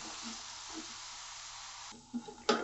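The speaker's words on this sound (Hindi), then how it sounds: "आलू को भी 3 से 4 मिनट फ्राई कर लेंगे।" Potatoes fry in hot oil in a kadhai for a dhaba-style aloo gobhi, giving a continuous soft sizzle that drops away near the end, followed by a few brief clinks.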